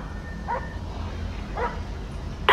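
A sniffer dog barking in the video game GTA with the LSPDFR police mod during a customs vehicle search, two short yips about a second apart then a sharper louder bark at the end, over a low engine-like hum.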